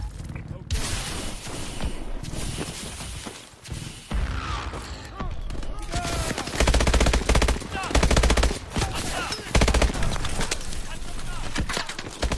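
Heavy automatic gunfire rattles through a Call of Duty Advanced Warfare campaign mission, loud continuous bursts layered with explosions and game effects, with a voice briefly heard under the din.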